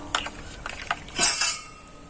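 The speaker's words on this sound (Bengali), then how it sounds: "এবার দুধটা গুলে নেব এই জলে।" A utensil clinks and scrapes against a metal pot as packet milk is stirred into water, giving a few light taps and then a brief swishing scrape, close and fairly loud.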